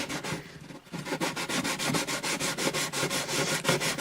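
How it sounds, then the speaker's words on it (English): Sandpaper rubs a dot inlay smooth on an acoustic guitar bridge in quick, rhythmic back-and-forth strokes, a close and steady scratching with no talk. "It's a little rough, but I'll smooth it out in a few minutes with a finer grit."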